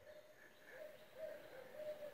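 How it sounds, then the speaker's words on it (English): Owl hooting at dusk outdoors, a few soft, distant hoots repeating at intervals over quiet background ambience. "you hear that, owl? It's getting dark."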